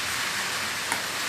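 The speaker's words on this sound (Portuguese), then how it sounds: "tá começando a cair chuva" Rain beginning to fall during an outdoor live theatre performance, a steady broadband hiss of drops on surfaces, continuous and fairly soft throughout, with one brief louder tap near the end.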